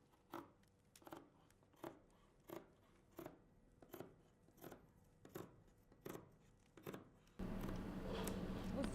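Scissors snip through frock coat fabric in about a dozen evenly spaced crisp cuts, close and clear, followed by a louder steady rustling of cloth being handled at the end.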